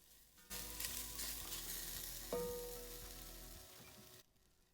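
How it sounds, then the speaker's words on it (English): Onions sautéing and caramelizing in a pot for Polish goulash, a close, loud continuous sizzle with stirring scrapes and one sharp clink midway, beginning and ending abruptly. "We're going to continue to go ahead and saute these out a little bit longer."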